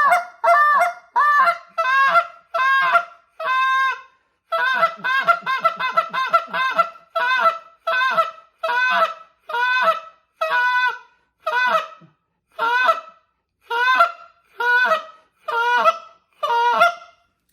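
A handheld goose call imitates Canada goose honks, clucks and moans in a steady run of sharp, loud calls, with quicker clucking bursts in the middle.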